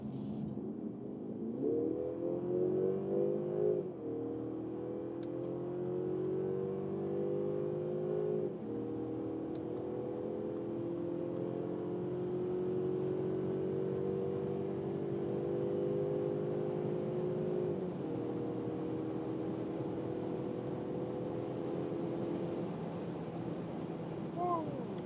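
A Mercedes CLE coupé in sport mode accelerates hard, its engine note climbing steadily through the gears with brief dips at each shift, heard from inside the cabin over a steady road roar.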